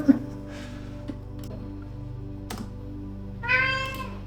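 A cat meows once near the end, a short close call over a steady low electrical hum with faint scattered clicks.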